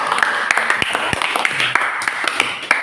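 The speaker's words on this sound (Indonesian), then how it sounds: "Beri tepuk tangan." A classroom of students claps for a student group, Group 3, after its presentation: a brief patter of hand claps with sharp scattered peaks, moderately loud and close, with some voices mixed in.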